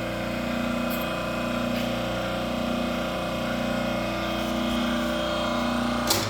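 A log splitter's hydraulic pump runs steadily, powering a homemade hydraulic press at a blacksmith's forge, a continuous mid-level engine drone with a slow pulsing hum and a small clank near the end.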